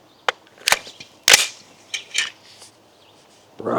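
A fully automatic-capable Leitner-Wise AR-15 rifle with a light 3-ounce carbine buffer fires a handful of sharp, separate reports spaced irregularly over a few seconds, loud and close against a quiet background.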